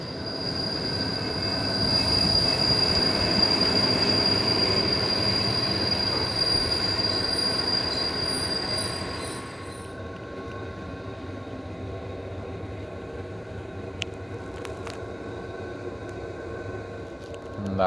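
Train wheels squeal loudly and steadily as a diesel or electric train slowly pulls into a station on the Oradea–Püspökladány cross-border line, a high piercing tone over rumbling rails that stops abruptly partway, leaving quieter rolling and clanks.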